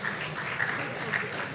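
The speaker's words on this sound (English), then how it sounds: "please give a round of applause for yourselves" Hackathon audience applauding at a tech festival, a dense patter of clapping under a faint murmur of voices, with a few sharper cheers or whoops standing out.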